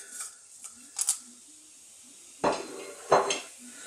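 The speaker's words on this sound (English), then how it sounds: "I'm going to just drop in a little bit of whole garam masala." Whole cinnamon, cardamom and cumin seeds drop into hot oil in a pan for a mushroom and zucchini curry, giving a few light clinks early on, then two louder bursts of crackle and rattle near the end.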